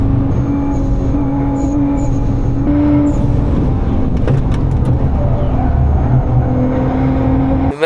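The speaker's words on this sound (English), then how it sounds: "we're gonna actually experience a very capable, fast R35 GT-R on the ring" A Nissan R35 GT-R driving on the Nürburgring, heard as a loud, steady engine and road drone from inside the car. It holds an even pitch throughout with no talking.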